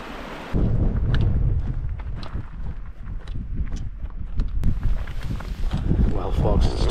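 Strong, cold wind buffets the microphone high on an exposed Cairngorm mountain trail in Scotland, a loud continuous rumble with irregular gusts and thumps throughout.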